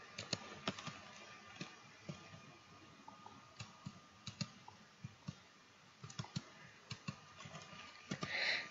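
Someone types on a computer keyboard, irregular bursts of close, crisp key clicks spread across several seconds in a quiet room, with no voices.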